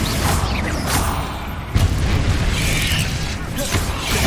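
A Confringo fire spell bursting in Hogwarts Legacy combat, with a dense crackling blast that jumps sharply in the middle of a continuous roar of spell effects and battle noise.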